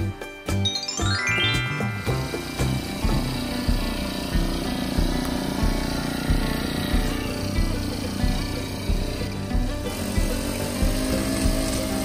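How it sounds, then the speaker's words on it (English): A toy hedge trimmer's motor buzzes and whirs steadily and loudly throughout, with a brief jingly rattle at the start. "A hedge trimmer is very noisy."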